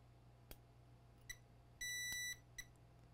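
Multimeter in diode mode beeping while probing a Nintendo Switch board during a no-power repair: a few short electronic beeps and one longer sustained tone, clear over a quiet background hum.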